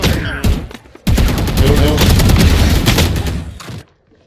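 Dense rapid rifle fire from a Kuronami Vandal in the video game Valorant rattles loudly in long sustained bursts, with a few short shots just before and a voice speaking over part of it.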